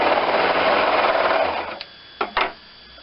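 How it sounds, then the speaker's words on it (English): A serger trims foam along the edge of a fabric collar, a fast buzzing run of about a second and a half that stops, followed by a few short stitching bursts. "serged off just enough so that you're trimming the foam just a little bit"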